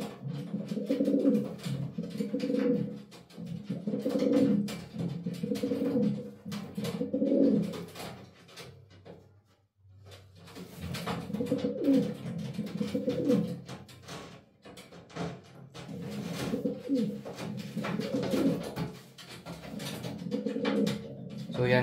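Pigeons in a breeding cage coo in repeated low, throaty bursts, close and fairly loud, with a short quiet pause midway before the cooing resumes.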